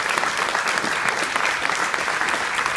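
A church congregation at Bayside Church of Lincoln applauds warmly, steady and sustained clapping from many hands that fills the room evenly from start to finish.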